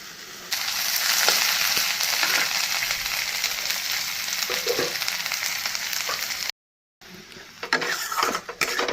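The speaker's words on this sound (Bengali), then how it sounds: "মাছের তেলটা বানিয়ে নেব বেগুন দিয়ে পেঁয়াজ দিয়ে" Fish frying in oil with eggplant and onion in a pan gives a close, loud, steady hiss that breaks off briefly, then returns with scattered clinks and scrapes.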